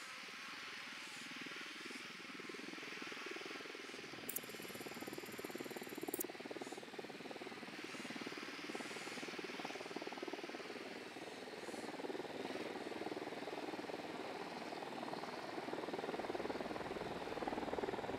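Helicopter in the video game Ghost Recon Wildlands, a steady rotor and engine drone at moderate distance that continues throughout and grows slightly louder, with a brief electronic tone partway through.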